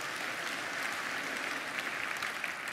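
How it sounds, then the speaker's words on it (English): Applause from a church congregation during a livestreamed sermon, a steady, even wash of clapping heard at a moderate distance. "Let's give Morgan a round of applause there."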